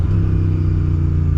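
A Royal Enfield race-build motorcycle engine runs loud and steady at close range, a continuous deep throbbing rumble with no talking over it.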